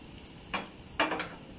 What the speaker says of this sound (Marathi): आणि आपण हे सर्व चमच्याने मस्तपैकी असं हलवून घ्यायचं.